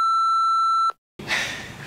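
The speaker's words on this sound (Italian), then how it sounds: "metterò un bip" A steady censor beep tone sounds loud and alone for nearly a second, then cuts to a brief silence before a noisy burst follows.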